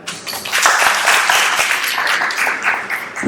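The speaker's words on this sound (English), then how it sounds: "Huge round of applause for them." A loud crowd at a youth conference held at a football club applauds young changemakers, a full burst of many hands that swells quickly and stays strong and close for a few seconds.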